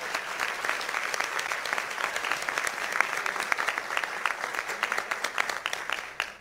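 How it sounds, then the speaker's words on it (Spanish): Sustained, even applause from a large audience for President Varela at a Central American official event, a dense crackle of many hands heard alone from start to finish. "Quisiera que pudiéramos darle un fuerte aplauso al presidente Varela"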